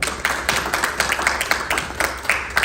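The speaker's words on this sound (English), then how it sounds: "round of applause for her" Applause for a speaker at an agricultural technology investment conference, heard as a steady run of individual hand claps with clear irregular rhythm, moderately close, with no talking over it.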